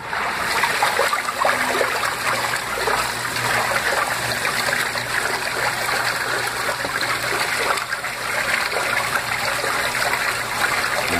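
A washing machine churning a thin load in lots of water with vigorous agitation: continuous sloshing and swirling water close by, with a low steady motor hum beneath it.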